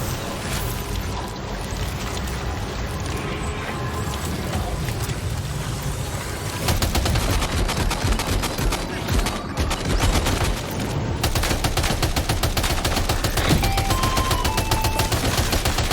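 Sustained gunfire from a battle in Death Stranding 2: dense, rapid automatic bursts rattling continuously over a constant roar, loud and close, intensifying partway through and carrying on to the end.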